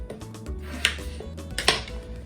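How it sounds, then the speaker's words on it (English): A very sharp knife cuts through sweet potato on a board, with two distinct chopping strikes standing out over soft kitchen handling noise, close and fairly loud. "I'm going to cut it like this, and I'm going to cut it down like this again"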